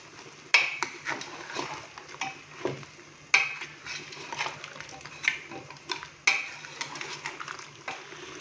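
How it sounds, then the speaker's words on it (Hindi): A spoon stirs ginger-garlic paste and chopped green chilies in a pot of beef Afghani karahi, with soft scraping, a few sharp metallic clinks against the pot and a low sizzle underneath, close and moderately quiet. "अदरक लहसुन का पेस्ट और चॉप की हुई सब्ज़ मिर्चें डालने के बाद अभी हम इसको अच्छे से मिक्स करेंगे"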